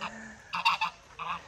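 A goose honks several times at a country farm, loud nasal calls close by in short bursts, with a pause before a final honk.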